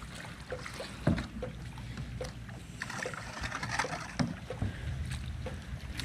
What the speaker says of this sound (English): Kayaking around.